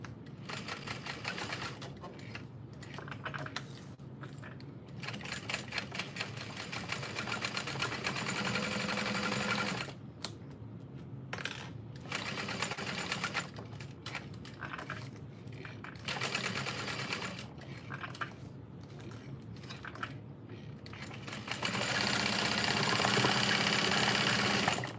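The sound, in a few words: sewing machine top stitching a bag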